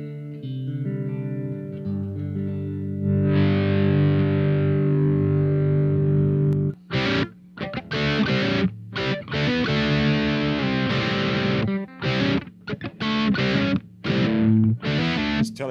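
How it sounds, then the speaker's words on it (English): A Telecaster electric guitar plays through an LPD Eighty7 distortion pedal: a long held, sustaining chord rings first, then choppy, loud distorted strummed bursts with brief gaps between them. "this Tele sounds good"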